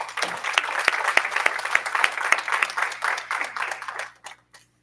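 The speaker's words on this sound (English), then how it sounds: "Please join me in giving an amazing and supportive round of applause to your IBM Master's Fellowship awardees." Round of applause for IBM Master's Fellowship awardees at a Southern University Board of Supervisors meeting: dense clapping from a seated audience with sharp individual claps, steady for about four seconds before fading quickly to silence.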